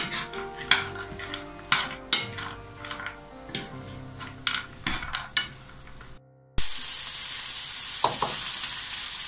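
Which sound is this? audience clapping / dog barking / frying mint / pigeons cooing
frying mint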